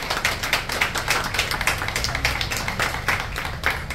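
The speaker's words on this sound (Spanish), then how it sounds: "se merecen un aplauso" Audience applause at a gathering in Intipucá, rapid dense clapping sustained throughout, fairly close and steady with no talk over it.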